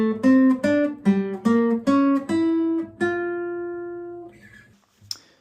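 Guitar playing single notes of a major 6 diminished scale, a run of about eight plucked notes in even rhythm, the last one ringing out and decaying, close and clear with no talk.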